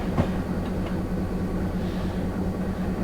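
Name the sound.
moving train in Train Simulator video game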